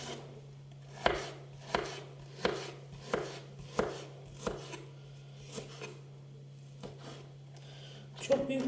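A knife chopping on a board in steady, evenly spaced strokes, about a dozen chops, close and moderately loud over a low background hum.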